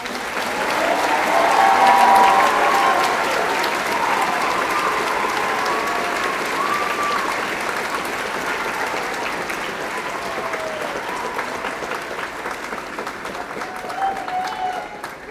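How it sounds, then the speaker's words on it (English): Audience applause at an awards evening, a steady wash of many hands clapping that swells loud in the first few seconds and then holds at a sustained level for about fifteen seconds. "Let's have a round of applause"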